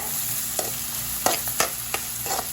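Onions and curry leaves sizzle in a pan with a steady hiss, broken by several sharp bursts as they are stirred, no voices.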